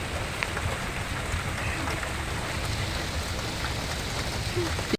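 Heavy rain pours steadily at an urban milkfish fishing spot in Metro Manila, a dense, even hiss of drops close by throughout, with no break.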